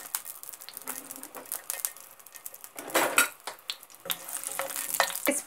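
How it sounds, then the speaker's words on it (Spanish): Four garlic cloves fry in a little olive oil in a heated pan, crackling and sizzling in uneven bursts alongside scraping stirs and a few utensil clinks. "Echamos poquito de aceite de oliva. Añadimos 4 dientes de ajo."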